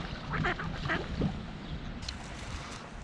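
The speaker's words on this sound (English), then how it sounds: "I was kind of preoccupied with the fighting ducks" Ducks fighting beside clear bass-fishing water give a few close, harsh quacks in the opening seconds before fading into a low outdoor rumble.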